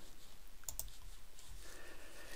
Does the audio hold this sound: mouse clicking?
yes